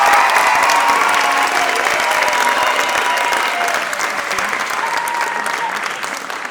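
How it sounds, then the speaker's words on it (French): Sustained applause from a concert audience for a visiting high school choir from Ho Chi Minh City, Vietnam, at a choral festival; loud, dense clapping fills the room throughout, slowly tapering toward the end. "On les applaudit."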